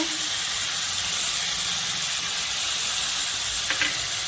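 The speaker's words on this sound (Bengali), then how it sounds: "টমেটোটাকে আমি এই আলুর সাথে অল্প ভেজে নিব।" Tomato and potato fry together in a pan, producing a loud, steady hiss close up with a brief squeaky scrape near the end and no talking.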